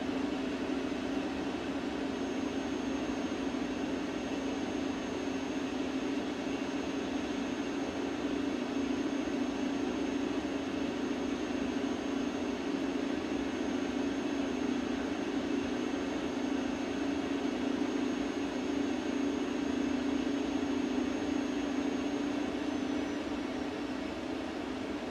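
A truck engine cruising at easy load inside the cab makes a steady, even low drone that holds without change throughout, with a constant road hum and no talking.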